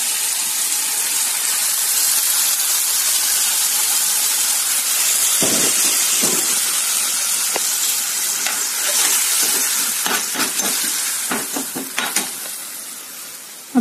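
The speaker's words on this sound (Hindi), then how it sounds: "राइस हम इसमें डालेंगे थोड़ा सा पानी।" Water poured onto rice in a hot pan for a Chinese-style dish sets off a loud, steady sizzle, followed by scraping stirs and crackles toward the end.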